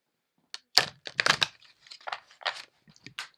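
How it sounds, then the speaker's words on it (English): Oracle cards being shuffled by hand, a run of quiet crisp riffles and papery slaps in short irregular bursts, close and fairly soft, with no talking. "I am shuffling the deck"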